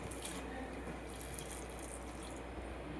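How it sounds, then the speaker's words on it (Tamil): Coconut milk pours into cooker-mashed rice porridge, a faint soft liquid trickle and splash in a kitchen, with no talking. "ஒரு தேங்காயை உடைச்சி பால் எடுத்து இதில் ஊற்றணும்."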